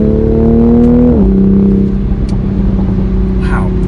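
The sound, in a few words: stock Toyota Supra exhaust pops while driving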